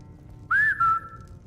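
A whistle shout cast in the video game Skyrim gives a clear, bright whistled tone that rises, then holds in two short bursts over a low, steady game ambience.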